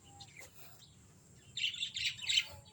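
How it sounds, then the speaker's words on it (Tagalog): Lovebirds below call in a short burst of shrill, squawking chirps, a few clustered calls at moderate distance over quiet background. "Ayan may lovebirds sa baba."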